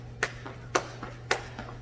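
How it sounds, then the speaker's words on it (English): Hands slap the thighs in time with rope jumps during single and double under practice: three sharp, close slaps evenly spaced about half a second apart, with softer taps between them and no talking. "That's where you just tap your thighs every time you jump."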